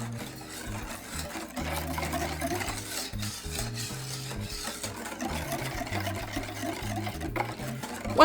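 A whisk stirs sugar into a chocolate pudding mixture for a no-bake chocolate ambrosia pie, making a steady scraping, swishing rhythm against the bowl. The stirring is continuous and close, with no voice over it.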